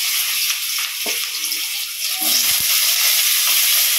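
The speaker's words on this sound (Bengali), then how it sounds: "আগে সবজিটা শুধু একটু ভেজে নেবো, আলুটা দিয়ে সব এক এক করে দেবো" Vegetables and potato fry in hot oil in a pan, giving a loud, steady sizzling hiss that swells slightly partway through.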